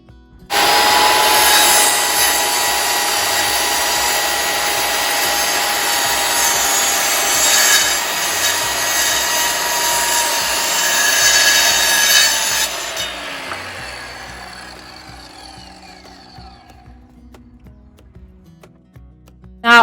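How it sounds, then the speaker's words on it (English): A leftover wood plank is sawn with a power tool, a loud continuous cutting whine for about twelve seconds that then winds down and fades out. "I was confident enough to start cutting the actual wood plank that I was going to use for my shelf"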